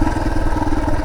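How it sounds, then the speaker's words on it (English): A motorcycle engine running close and loud with a rapid, pulsing throb, steady throughout at an off-road trail crossing in the Reiter ORV area. "motorcycle crossing"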